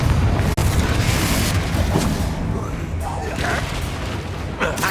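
A Confringo fire spell explodes in a Harry Potter–style video game, giving a loud, rumbling blast that fills the whole stretch, with a brief dropout near the start and a few sharper bursts later.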